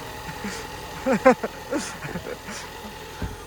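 An old car's engine runs with a steady low rumble after being started, heard under people talking nearby, with no clear separate rev bursts standing out.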